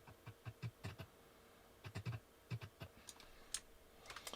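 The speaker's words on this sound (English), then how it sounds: "I used a keyboard shortcut. It's Control K." Near, crisp computer keyboard clicks in two quick bursts of several keypresses each, then a few scattered single taps, entered as a shortcut while editing in Premiere Elements; no voices.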